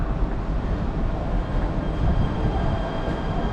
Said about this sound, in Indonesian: beginilah suasana MRT Jakarta